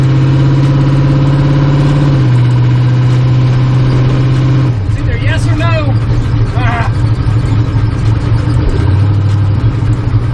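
A turbocharged LS V8 in a truck rumbles steadily at idle, its low drone loud and close and stepping slightly in pitch, while someone speaks over it partway through.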